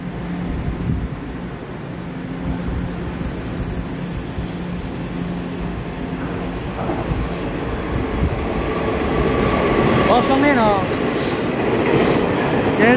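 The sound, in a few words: Taiwan train with two electric locomotives passing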